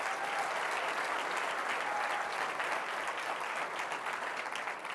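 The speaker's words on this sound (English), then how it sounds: "So let's give them a huge round of applause." Warm, sustained applause for schoolgirl storytellers at an event on girls' education, a full room clapping steadily and evenly for several seconds, moderately distant.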